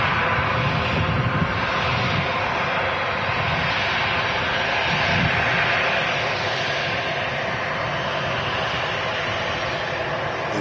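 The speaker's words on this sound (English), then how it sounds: "Another wide body departure." A wide-body jet airliner departing from Manchester Airport, a steady, loud, broadband engine roar held for the whole stretch with little change in level.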